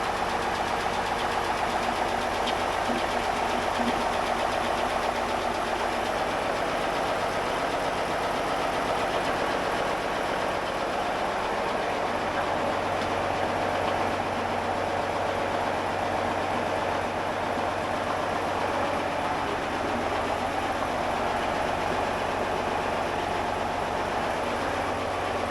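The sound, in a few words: boat engine idling with turbo cooling down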